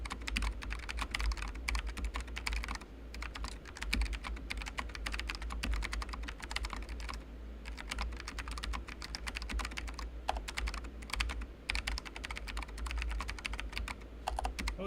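Rapid, continuous clatter of keys on a new computer keyboard, close and fairly quiet, typed steadily with brief pauses and no voices.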